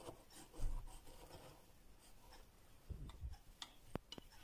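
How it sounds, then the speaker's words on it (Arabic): A crumble-style tart crust being cut by knife, producing scattered dry crunching and rasping scrapes with a few sharp crackly ticks near the end, close and fairly quiet, with no talking. "نتمنى تكونوا تسمعوا القرمشة اللي فيها"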